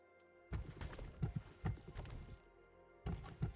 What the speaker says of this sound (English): this is gonna be a lot of placing blocks and breaking blocks